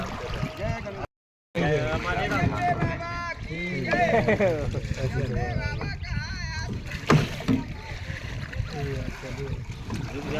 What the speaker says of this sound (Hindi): तो हमारी नाव गंगा जी के पानी में चल रही